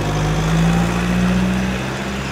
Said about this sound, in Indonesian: kebetulan ada mobil lewat